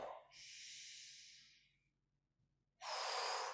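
Close, audible breathing during qigong practice: a soft airy breath trailing off into quiet, then a strong, steady inhale right up near the listener.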